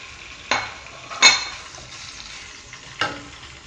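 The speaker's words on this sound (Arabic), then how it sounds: "ندير فيها شويه تاع الزيت، ندير طراف تاع الدجاج يتحمصوا يتجمروا، نقليهم." Chicken pieces fry in oil in a pot with a soft, steady sizzle, broken by a few sharp metallic clinks of a utensil stirring against the pot.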